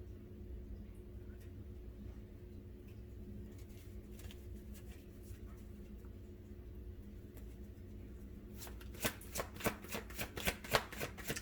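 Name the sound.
shuffling and handling tarot cards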